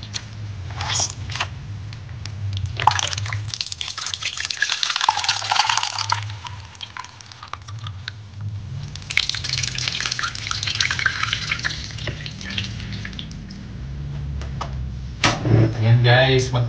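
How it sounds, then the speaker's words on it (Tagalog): Grated coconut is squeezed by hand to press out coconut milk for a mixed-vegetable coconut stew. Wet squishing, crunching and dripping sounds are heard up close, with a voice speaking now and then. "Guys, piga tayo ng gata."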